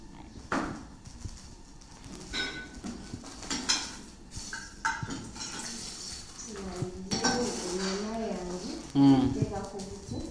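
A cooking pan and utensils clatter and scrape in a home kitchen, with sporadic metallic knocks and clinks while people talk throughout.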